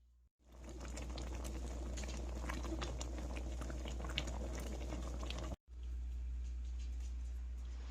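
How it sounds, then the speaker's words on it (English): Pepper jelly made without fruit bubbles and spatters steadily in a pot while being stirred, a dense continuous simmering hiss with a brief cut near the end. "that jelly was stirred for a minute"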